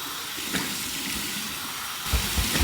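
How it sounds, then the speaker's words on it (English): Warm water running from a tap for a rinse after shaving, a quiet steady hiss of flow that picks up into heavier splashing toward the end, with no one speaking. "Here's my warm water rinse."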